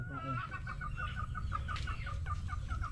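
Chickens cluck in a steady run of short, repeated calls, fairly close, over a low rumbling background.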